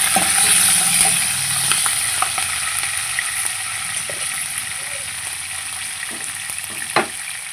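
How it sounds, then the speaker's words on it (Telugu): Long-cut green chillies sizzle in hot oil, with a loud hiss that fades gradually as they are stirred around the pan, marked by a few scraping clicks of the spoon. "ఆయిల్ అయితే హీట్ అయింది ఇప్పుడు మనం పొడవుగా తరిగి పెట్టుకున్న పచ్చిమిరపకాయలు వేసుకొని ఒకసారి మొత్తం తిప్పుకొని"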